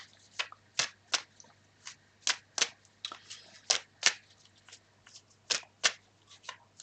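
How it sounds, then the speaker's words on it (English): Tarot cards being shuffled by hand, heard as a string of crisp, quiet riffling bursts at an uneven rhythm, close and soft against a faint low hum, with no talk. "When I was shuffling the cards"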